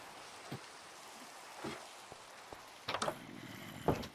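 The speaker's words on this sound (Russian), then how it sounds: "Ой, еще дождь начался." Soft steady rain falls in the Minecraft ATM9 modpack, a faint continuous patter with a few brief louder clicks and taps scattered through it, and no talking.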